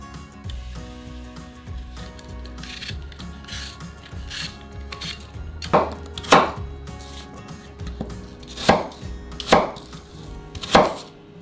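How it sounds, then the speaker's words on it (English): Peeled cooking apples are chopped into small chunks on a board, with soft cutting sounds at first and then a series of sharp, loud knife knocks close by. "we'll peel them and chop them into small chunks"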